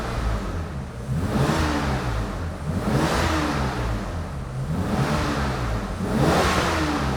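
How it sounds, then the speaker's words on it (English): A restored BMW E31 850 with a V12 engine, now without its noisy power steering pump, revs in a steady cycle. About four smooth, close swells rise and fall, with no talking. "Now you can hear the engine without screaming power steering pump."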